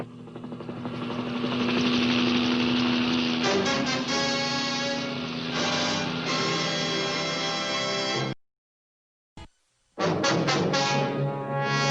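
A Highway Patrol helicopter drones loudly and steadily with a throbbing rotor, cutting out briefly to near silence twice before resuming at full strength.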